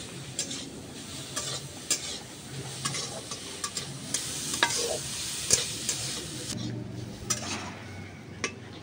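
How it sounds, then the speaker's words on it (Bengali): Grated carrots fry and stir in ghee in a pan for carrot halwa, giving a steady close sizzle broken by repeated scrapes and clinks of a spoon against the pan, with no talking. "ভালো করে আমি গাজরটাকে একটু ভেজে নেব।"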